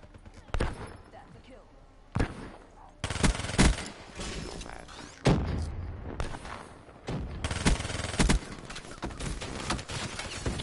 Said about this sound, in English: This machine gun, man, I love it.